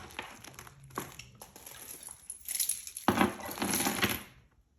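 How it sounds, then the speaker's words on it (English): A cash envelope handled and pulled out, with soft paper crinkling and rustling and light clinking in scattered bursts, quiet and close. "let me pull out another envelope."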